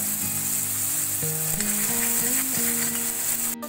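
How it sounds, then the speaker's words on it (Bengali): Garlic and cumin paste sizzles in a pan for chicken noodles, a steady close hiss running for the whole stretch, with a faint tonal melody beneath it. "দিয়ে দিব রসুন বাটা আর সামান্য জিরা বাটা। এখন আমি ভালোভাবে ভেজে নিচ্ছি।"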